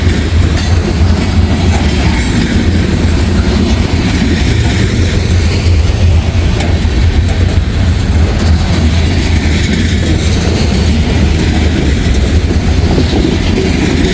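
A freight train of tank cars rolls past close by in the rain: a heavy, unbroken rumble of rail cars with faint rhythmic wheel clatter throughout.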